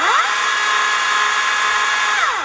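A Husqvarna 530iP4 cordless battery pole saw runs in battery-saver mode: a steady, loud electric motor and chain whine that ramps up at the start, holds a constant pitch, then winds down.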